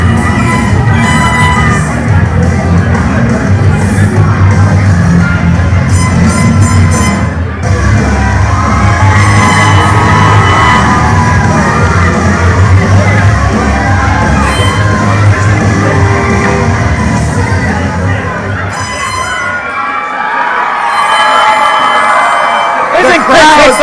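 A wrestling crowd at an IHW event yells, shouts and cheers loudly and continuously, with whoops and high voices surging over a steady roar before it briefly drops near the end.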